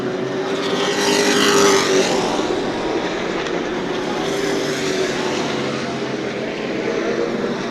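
Sportsman race cars lapping the New Smyrna Speedway oval, a sustained loud engine roar with a rising and falling pass-by whine as the pack sweeps past, no talk.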